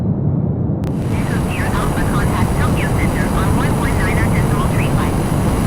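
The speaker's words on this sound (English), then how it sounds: "It's now time to activate afterburner and light that candle." The Quasar jet in Microsoft Flight Simulator lights its afterburner: a sudden onset gives way to a loud, steady, broadband roar that continues throughout, with someone talking over it.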